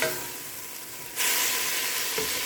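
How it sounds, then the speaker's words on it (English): Onions, garlic and ginger sizzling in a pan over medium-high heat, a close steady hiss that jumps louder as they are stirred, with a faint scrape of the spoon, no talk. "I'm going to stir that up."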